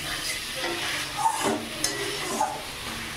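Diced potatoes fry in a pan over a raised gas flame for a vegetarian paneer curry, giving a steady close sizzle with occasional stirring scrapes and clinks.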